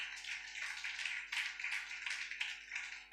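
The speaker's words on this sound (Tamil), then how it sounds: "தலைக்கு மேல ஒரு பலமா கையை தட்டுங்க பார்க்கலாம்." A church congregation at a Sunday service claps hands overhead, a dense wash of many overlapping claps swelling and easing in quick bursts, with no voices over it.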